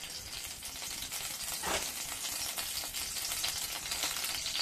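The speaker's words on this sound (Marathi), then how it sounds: "तेल छान तापलेलं आहे।" Hot oil sizzles steadily in a pan ready for tempering, a continuous close crackling hiss with no talk over it.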